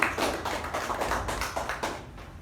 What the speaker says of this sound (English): So a round of applause for Sergeant at Arms